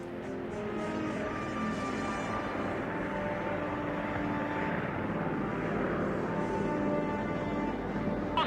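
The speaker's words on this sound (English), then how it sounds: "Daryl and the others take off from Thule" Steady aircraft engine drone with propeller hum as a plane takes off from Thule in Greenland, loud and continuous throughout with no voices.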